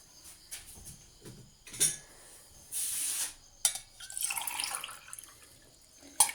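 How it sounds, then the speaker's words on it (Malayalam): Water poured for lemon juice over sugar and ice cubes, heard as short bursts of splashing and a steady trickle mid-way, with clinks and scattered drips around it, close and fairly quiet. "അല്പമായിട്ട് ഇതാ വെള്ളം."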